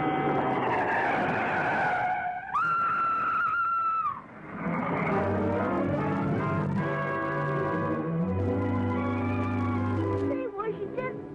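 A car skids with a long, loud tire squeal that rises and holds, followed by a sustained engine and tire roar, with voices speaking partly over it.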